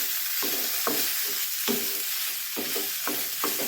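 Sweet potato batter for ada being mixed in a bowl, a steady wet churning with several soft scraping strokes spaced irregularly, close up and alone with no talking.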